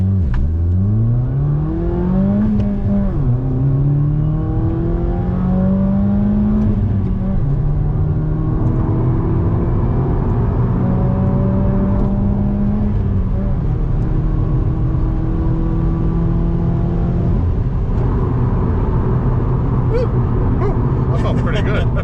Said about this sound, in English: All right, all-wheel drive launch.